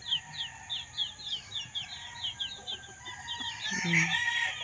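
Backyard chickens of several breeds cluck in quick, repeated calls close by, with a rooster crowing and other fowl stirring toward the end.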